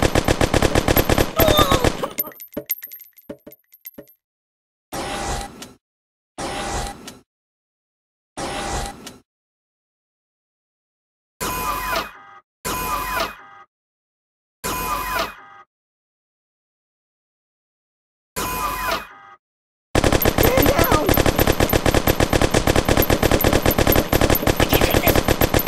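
Firearms blast away in the mobile game Kick The Buddy: loud bursts of rapid automatic fire separated by short silences, ending in a long, sustained stream of shots.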